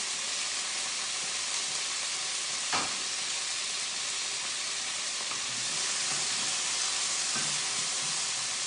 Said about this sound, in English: I'm going to add the little tomatoes, and those are going to start cooking also